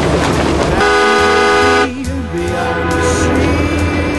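The M/S Henrik Ibsen's loud, deep horn blasts close by for about a second, then a second, slightly different horn tone follows with engine rumble underneath.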